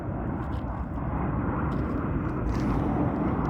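Southwest airplane passing overhead in the evening, a loud, continuous broadband engine roar that fills the whole stretch and swells slightly toward the end.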